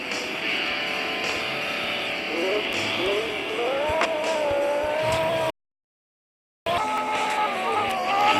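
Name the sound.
car driving in a mobile video game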